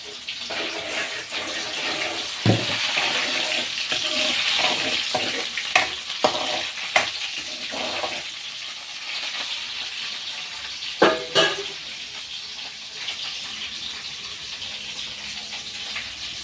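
Green chillies sizzling and frying in a pan while making chicken curry, a steady close hiss with stirring clinks and a few sharp knocks, no talking.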